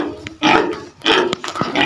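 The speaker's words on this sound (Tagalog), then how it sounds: "Okay, so yung baboy oh." A pig gives a few short, loud grunts close by in two main bursts, with no talk over them.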